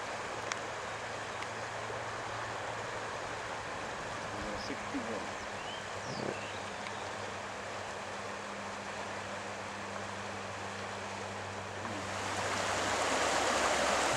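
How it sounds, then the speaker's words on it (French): A river rushes through a narrow channel, a steady broadband flow of water that swells louder near the end, with no other sounds standing out. "nous sommes à présent dans un coin plutôt actif de la rivière. Un léger goulet et tout s'active."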